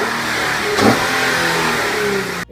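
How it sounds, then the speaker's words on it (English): An Infiniti G37 engine fitted with a cold air intake revs hard, the induction roar swelling near 0.8 seconds and then holding a steady high-rpm drone before cutting off abruptly at the end. "like that induction noise you're gonna get on the revs,"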